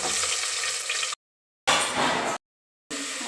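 Bay leaf and kasuri methi fry in hot oil in a pressure cooker, a bright steady sizzle broken by short gaps of silence.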